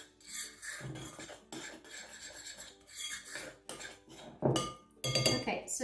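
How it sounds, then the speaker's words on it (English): A spoon clinks and scrapes against a bowl, mixing ingredients for a banana bake in an uneven rhythm, with louder clattering strokes toward the end, close and fairly clear. "Okay, so let's mix it up."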